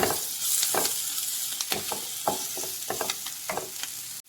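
Sliced bajji chillies and tomatoes fry in a pan for a koorka masala, with a steady sizzle broken by repeated scraping stirs of a spoon, close and fairly loud, ending abruptly.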